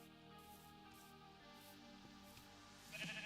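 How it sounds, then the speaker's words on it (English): Sheep in Minecraft bleat faintly over steady background game music, with one brief, slightly louder bleat near the end. "Look at all those sheep."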